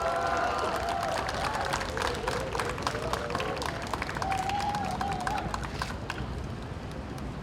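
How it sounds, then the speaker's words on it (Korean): A crowd applauds steadily at a local council candidate's campaign office opening in Yeongju, the dense clapping running throughout at a close, even level. "큰 박수와 한호 부탁드리겠습니다."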